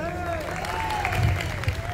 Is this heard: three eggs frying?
no